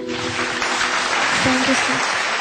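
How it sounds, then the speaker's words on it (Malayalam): A studio audience at a junior singing reality show applauds a young singer, a steady wash of clapping with a voice talking over it and a few short tones rising in the middle. "ഒരു കയ്യടി കൊടുക്കും ഇവിടെ"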